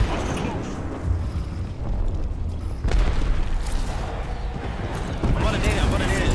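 A grenade blast in an Apex Legends tournament match rumbles through sustained low-end booms and gunfire-like clatter, loud and continuous across the whole stretch, with no clear isolated detonation standing apart from the dense combat noise.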